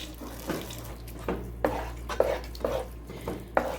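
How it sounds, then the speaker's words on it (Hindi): Semolina stirred continuously in hot oil with a spoon for milk suji halwa, heard as a faint, soft rhythmic scraping with regular strokes about every half second over a low background hum. "चम्मच मुसलसल चलाते रहना है"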